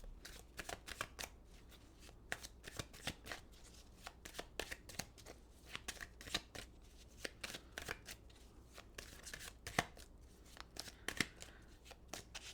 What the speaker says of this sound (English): I felt like they needed a good shuffle there all of a sudden